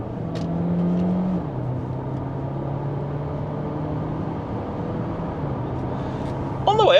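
A DS 7 premium SUV accelerates under manual paddle gear changes, its engine drone rising steadily inside the cabin, with a shift dropping the pitch early on and a brief tonal chirp near the end.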